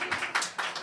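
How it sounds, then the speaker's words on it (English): An audience at a press preview in the USA Partnership Pavilion at the Paris Air Show 2019 claps in a brief scattered burst, a few sharp hand claps close by and uneven in rhythm. "you can applaud if you want"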